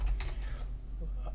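A few quick, light keystrokes on a computer keyboard as a command is typed at a command prompt, clustered early and soft against steady low hum.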